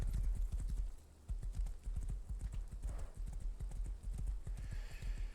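Horse hooves clip-clop in the survival game Rust, a dense, rapid run of loud, close hoofbeats with a brief pause, heard with no talk.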